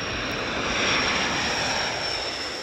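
Loud, steady roar of a Navy Growler jet engine, a heavy broadband rumble with strong low-end weight that holds close and unbroken throughout, with no voices.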